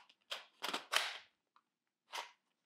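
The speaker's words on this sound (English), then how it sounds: "Let's see, it just pulls out." An airsoft gun magazine pulled from a tight-fitting mag well, a few short plastic clicks and scrapes in a quick cluster, then one more click after a pause, close and quiet.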